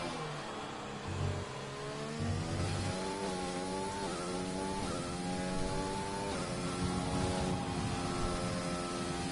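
Race cars lapping a wet track in the Russian Grand Prix in a racing video game, several engines whining and shifting pitch as they accelerate and pass, steady and fairly loud with no talk.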